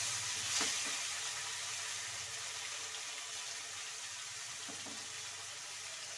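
Curry ingredients for a village-style drumstick masala fry in a pan, giving a steady, fairly quiet broadband sizzle throughout, with a couple of faint stirring scrapes and no talking.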